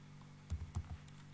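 Short burst of typing on a computer keyboard, a few soft quick key taps clustered in the middle, faint and close in a quiet room.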